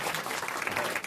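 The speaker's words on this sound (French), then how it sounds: "bravo, on vous applaudit, Monsieur Persiani, cofondateur de Fleezy." Studio audience applause on a French radio comedy panel show, a brief dense burst of steady clapping filling the whole moment with no talk over it.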